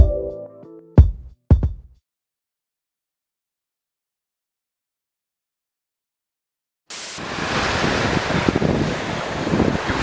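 Sea waves wash onto the shore on a mid-May day, a steady, loud rush with wind buffeting the microphone, beginning abruptly after a few brief knocks and a long silence.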